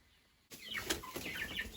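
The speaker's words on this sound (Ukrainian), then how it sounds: "А тут курчата." Chicks of various breeds cluck and chirp softly together at close range, a busy cluster of short calls starting after a moment of near silence.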